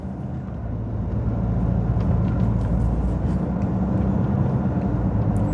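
Steady low rumble from a Citroen C5 X7 HDi with hydropneumatic suspension cruising in second gear, a continuous, even cabin drone with road noise and no talking.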